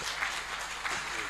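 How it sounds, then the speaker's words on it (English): Audience applause at a rubber value chain conference, a steady wash of many hands clapping through the short moment, moderately loud and fairly close with no voices over it. "Were you clapping for him?"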